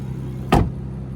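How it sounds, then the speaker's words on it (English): A single firm thump as the clamshell bonnet of a 2017 Aston Martin DB11 Launch Edition is shut, one short close impact over a low steady background hum. "And this clamshell closes pretty easy."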